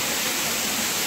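Water tumbling down from above at a waterfall on Ajodhya Pahar in Purulia makes a steady, hissing rush that fills the short moment evenly, with a voice faintly present.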